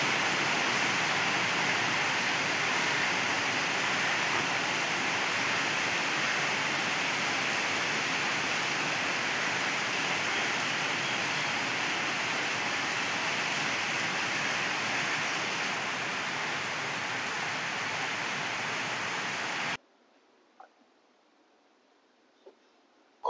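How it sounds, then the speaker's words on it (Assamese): Rain falls outside in Guwahati as a steady, even hiss for about twenty seconds, then stops abruptly into near silence with a few faint clicks. "এইফালে বৰষুণ পৰিলে বৰষুণ দেখাই দিছো"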